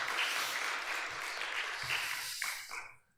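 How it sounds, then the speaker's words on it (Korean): A church congregation claps together in a dense burst of applause during a Sunday service. The applause is fairly faint and tapers off at the end. "박수로 한번 격려하겠습니다."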